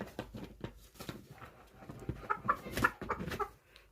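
A chicken clucks in short irregular bursts on a small farm, fairly faint and close, with scattered shuffling and no clear talk.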